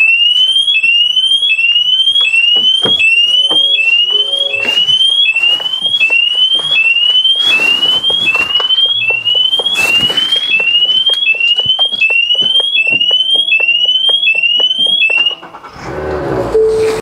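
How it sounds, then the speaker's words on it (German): Mazda car alarm going off, a loud repeating electronic siren chirping in fast regular bursts for about fifteen seconds, close and continuous, before cutting out near the end. "Das heißt, wenn ich jetzt öffne, Alarmanlage geht an"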